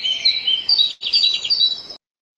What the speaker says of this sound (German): Überraschung, das ist Vogelgezwitscher.